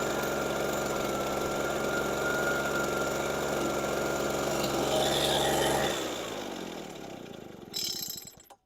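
An Echo PB413H backpack leaf blower engine runs loud and steady up close with a buzzing drone, then winds down near the end with a brief sputter.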